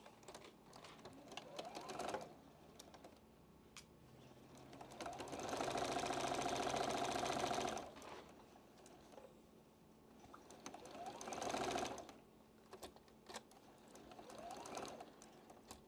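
A sewing machine stitches through a quilt block for an Ohio Star pattern in two sustained runs of steady mechanical whirring, with quieter handling clicks and rustles between them, fairly faint and with no talk.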